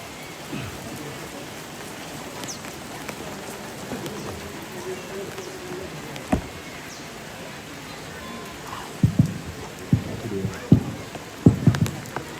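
Heavy rain falls steadily, a soft wash of drops on surfaces throughout, with a few louder knocks and thumps toward the end.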